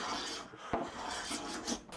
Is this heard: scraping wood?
yes